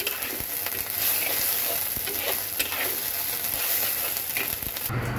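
Ginger and onion paste sautés in hot oil for a rui fish head muri ghonto, a steady loud sizzle with scraping stirs throughout, then cutting off abruptly at the end.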